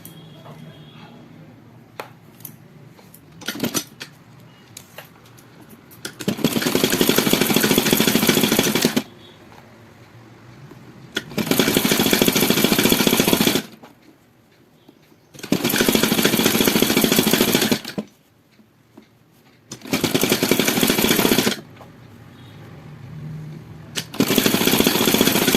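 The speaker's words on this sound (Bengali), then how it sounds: "এবার এটাকে আমি সরু করে সেলাই করব।" A sewing machine stitches a narrow strip of cloth for a rope-and-fabric hanging, running in five loud, steady mechanical bursts of two to three seconds each, separated by quiet pauses.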